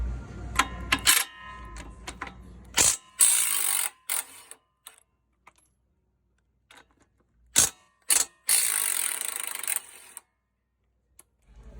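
A ratchet with a 21 mm socket works rusted bolts loose under a Mini Cooper R56, with loud, close bursts of rapid clicking separated by long quiet gaps.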